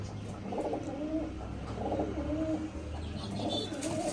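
Pigeons in a loft coo softly and repeatedly, the low rolling calls recurring every second or so over a steady background hum.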